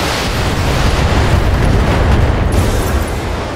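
Missiles slamming into an enemy Urban mech in the BattleTech video game, a dense, loud rumbling barrage of blasts that roars continuously with no clear gaps.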